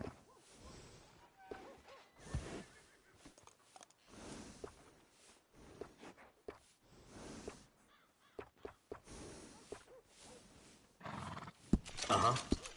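Repeated horse whinnies and snorts in Red Dead Redemption 2 during grooming come in uneven bursts over a stretch of time, with some voice-like sounds mixed in and a louder burst near the end.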